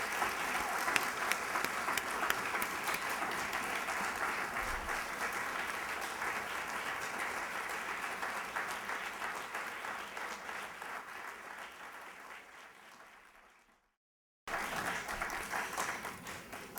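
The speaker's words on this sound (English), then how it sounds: "So I want your applause to show him how much we appreciate him." An audience at Albany State University applauds Congressman Sanford Bishop, a long, loud roll of clapping that slowly fades, breaks off briefly, then resumes just as strongly.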